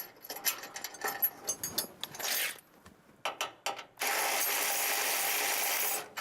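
A ratchet snugs up plow bracket bolts on a half-ton pickup: a burst of quick clicking pawl strokes, a pause, more clicks, then a sustained whirring rasp, close with no voices.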